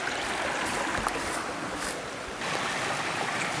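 A clear woodland brook spills over small cascades in a constant, close, full rushing flow that stays even throughout, with no voices present.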